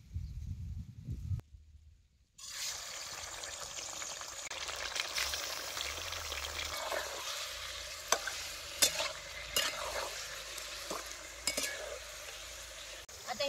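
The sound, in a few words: chicken frying in oil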